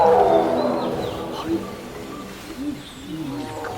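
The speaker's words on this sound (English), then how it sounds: "That is a tiger roaring." Tiger roaring from some distance in the Bandipur Tiger Reserve forest, low moaning roars that rise and fall, mixed with birdsong and cooing doves, with people talking quietly nearby.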